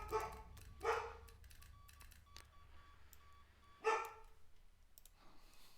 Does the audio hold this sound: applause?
no